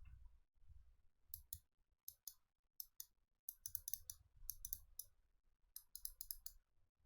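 Quiet bursts of sharp, rapid clicks from an arcade joystick's microswitches, arriving in short clusters separated by soft thumps and pauses.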